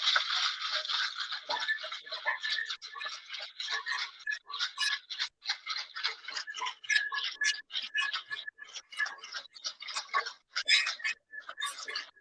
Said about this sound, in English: So I'm just going to give this a gentle shake here.